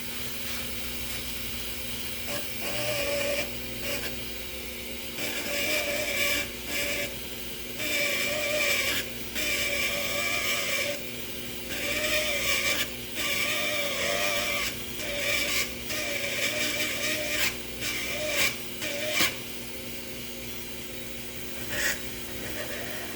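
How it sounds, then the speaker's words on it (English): Dremel rotary tool on its slowest speed grinding the slide lugs off a Springfield Hellcat OSP pistol slide, a continuous whirring hiss that rises in repeated short grinding passes over about twenty seconds. "I've got setting speed 1 on the Dremel, so we'll start with a little bit of a slow grind"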